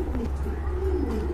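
A pair of large Kagzi pigeons coos in low, steady murmuring tones, close by, with a continuous low hum underneath.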